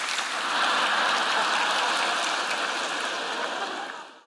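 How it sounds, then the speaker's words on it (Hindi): A church congregation bursts into loud applause, a dense roar of clapping that swells quickly, holds steady and then tapers off at the end, with no speech over it. "या जितनी जोर से ताली बजाएंगे उतनी तेजी से समाप्त करूंगा"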